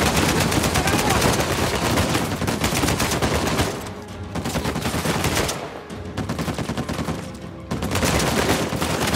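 Rapid turret gunfire from Uncharted 4 rattles almost nonstop in dense, loud bursts, easing for brief moments around the middle before surging back.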